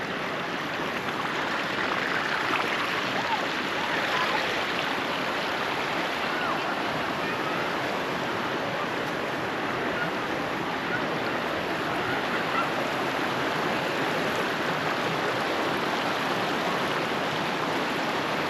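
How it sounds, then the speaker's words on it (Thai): Water rushes continuously at the base of a waterfall over rocks, a loud, steady broadband roar with no pauses. "ฐานน้ำตกนะครับไหลยาวไปเลยนะครับ"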